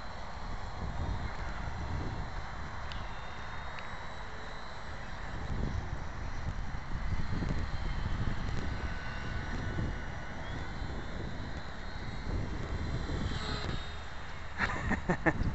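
Gusty wind buffets the microphone outdoors at a flying field for an RC T-28 model airplane, swelling and easing in rough waves throughout, with a faint thin engine whine from the plane in the background.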